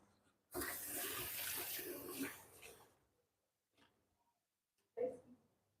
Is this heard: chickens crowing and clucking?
no